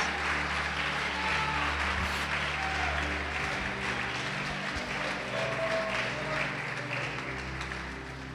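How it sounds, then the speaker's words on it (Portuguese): A church congregation claps together in praise, a steady wash of applause over a low sustained organ-like hum, fading slightly toward the end. "Vamos aplaudir, glorificar o nome do Senhor Jesus."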